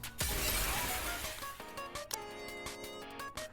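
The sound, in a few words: window shattering in the video game Nikke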